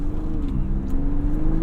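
A 2022 Ford Bronco Raptor's engine drones loud and close while being pushed hard around a corner, a sustained rumbling hum that shifts pitch slightly as the revs change.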